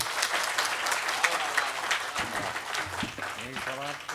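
Audience at a Hindi poetry gathering (kavi sammelan) applauding poet Santosh Anand, a sustained burst of crowd clapping with voices talking over it near the end.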